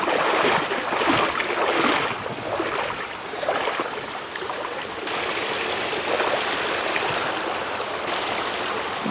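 Rushing water of a stream at a beaver dam, heard up close while someone wades across it, a continuous broadband wash with splashing surges that rises and falls in intensity.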